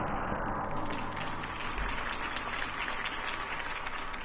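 Crowd applause and cheering from a Batman Telltale video game scene, following Harvey Dent's campaign speech; dense, steady clapping fills the whole stretch at an even loudness with a low rumble beneath.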